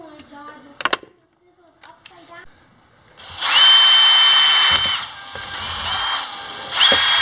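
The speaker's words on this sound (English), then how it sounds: "I guess I could put two screws in there just to make sure this thing doesn't move" A power drill drives tiny screws into a rudder part for a Shark Slicer upgrade. A few light knocks and handling noises come first, then two long, loud, steady whirring runs close by.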